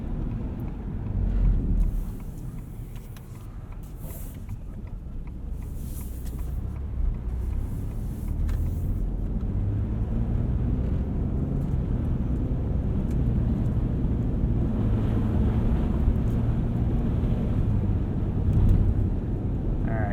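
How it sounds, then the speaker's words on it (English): A 2021 Ford F-150 Tremor drives along a snow-covered dirt road, its engine a low steady drone under rumbling tire noise and gusts of wind buffeting the microphone, with no one speaking. "we'll take a right onto the snow-covered dirt road, see how it puts its power down in a straight line in the snow"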